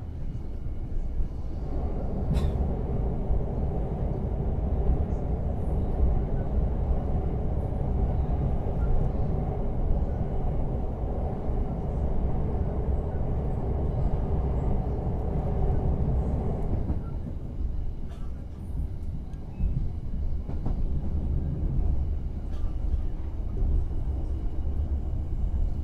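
Heard from inside the Ranggajati business-class passenger train on its long run toward Surabaya Gubeng, a continuous low rumble of wheels on rails holds steady throughout, with its tone shifting slightly partway through.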